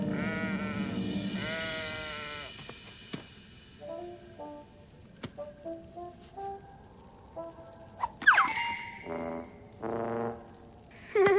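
Animated cartoon sheep bleat in several drawn-out, wavering calls, with a few short toots and thumps scattered among them and a last loud bleat near the end.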